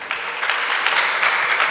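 A congregation at a church service claps together, a dense, steady burst of applause heard alone for under two seconds.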